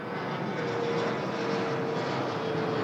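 A propeller airplane drones steadily overhead near the airport in Alexandria, Virginia, a loud, continuous engine roar with a faint steady tone, heard alone without speech.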